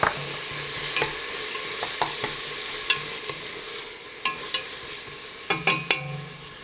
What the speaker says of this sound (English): I will give this just a moment to let the onion saute a little bit